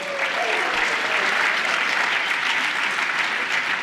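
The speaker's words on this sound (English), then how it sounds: "please give a big clap" An audience at a DLD conference claps for the band, with steady, dense applause throughout and a brief voice near the start.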